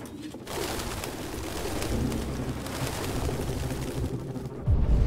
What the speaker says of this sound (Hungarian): Hát ilyen házi galamb így van.